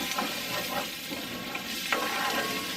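Onions frying in a pan give a steady loud sizzle, with a few scraping stirs of a utensil breaking through it, close by and without talk.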